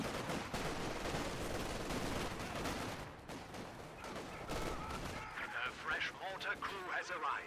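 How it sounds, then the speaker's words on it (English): Machine gun suppressing fire in Company of Heroes 2 during a 4v4 match on Road to Arnhem, with continuous rattling bursts and distant explosions under a commentator's steady talk. "That suppression by that MG is actually doing some pretty darn good work on the left-hand side here"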